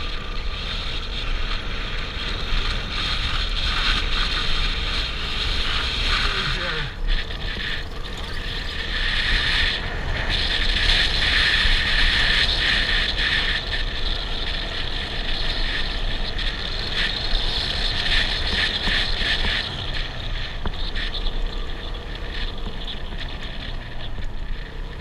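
A vehicle driving along a road near An Khe, heard from inside as a steady engine and road rumble with rattling and hissing wind noise that holds continuously, with no talking.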